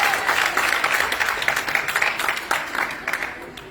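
An audience claps for a team of young women and their mentor at a Technovation Girls celebration, a dense, continuous applause with sharper individual claps standing out near the end.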